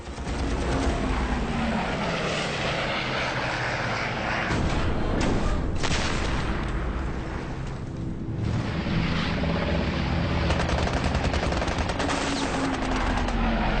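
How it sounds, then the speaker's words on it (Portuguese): Six Browning machine guns on a P-51 Mustang fighter firing during an aerial dogfight: loud, dense, continuous rattling bursts that fill the whole stretch, with no voices. "Suas 6 metralhadoras Browning dispararam."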